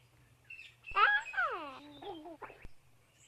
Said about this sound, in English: Why was there a baby sound effect?